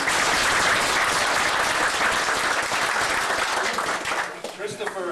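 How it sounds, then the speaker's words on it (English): A crowd at a special event in Elliot Lake, Ontario breaks into loud, sustained applause, a dense roar of clapping that tapers off near the end. "she deserves a round of applause"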